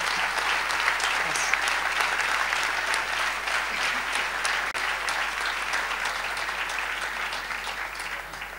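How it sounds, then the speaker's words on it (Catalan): Sustained audience applause at a town festival proclamation in Riba-roja d'Ebre, honouring the class of '77; a dense, steady wash of clapping from a large crowd that holds evenly throughout. "Aprofito per sol·licitar un fort aplaudiment pels quintos del 77"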